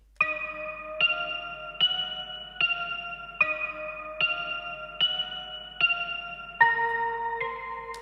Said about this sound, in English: So for the third layer we have a bell which sounds like this.